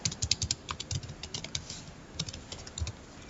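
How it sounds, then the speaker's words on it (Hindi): Rapid, uneven clicks of fingers typing on a computer keyboard, steady and close with short pauses between bursts, alone without talk. "I am typing the same example"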